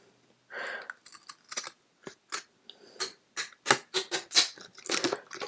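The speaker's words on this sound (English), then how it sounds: "I'm going to cut it pretty close to the diamond wrap" Scissors cut through recycled Christmas card stock, a string of crisp, close snips and slicing strokes that pick up pace, heard alone in a quiet room.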